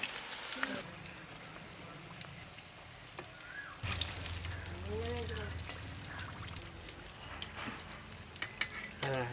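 Samosas deep-frying in sunflower oil at an old man's small thatched roadside stall, a bubbling sizzle with stirring and splashes as people talk nearby.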